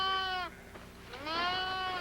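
Sheep bleat close by on a farm where ewes and lambs have been separated, two long wavering cries with a short pause between them, clear and alone.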